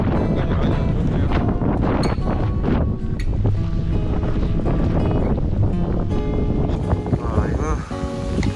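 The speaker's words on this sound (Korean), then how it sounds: "바람이 갈수록 심해지는 것 같습니다." Strong coastal wind on a walking trail on Jeju, roaring steadily into the microphone with waves or rushing water mixed in, loud and continuous throughout.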